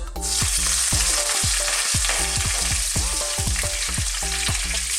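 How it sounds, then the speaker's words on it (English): Curry leaves hit hot oil and set off a loud, crackling sizzle with sharp pops and spatters throughout. "in goes our curry leaves. They're going to make quite a lot of noise"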